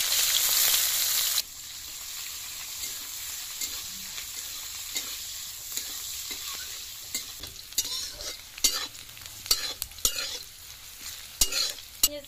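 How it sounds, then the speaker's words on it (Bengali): Chopped onion and green chili fry in a pan with a constant close sizzle, broken by repeated scraping and stirring strokes that grow sharper and more frequent toward the end. "পেঁয়াজ মরিচ ভালো করে ভেজে নিয়েছি"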